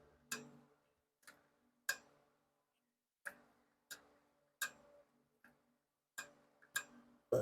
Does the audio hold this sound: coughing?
no